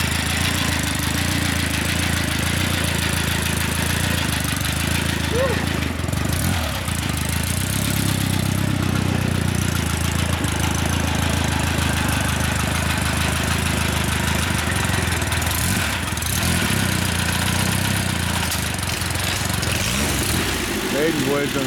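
Vintage Cleveland motorcycle engine running at a rally at Rhinebeck, a steady mid-pitched chugging drone that continues throughout, close and fairly loud, with people talking nearby.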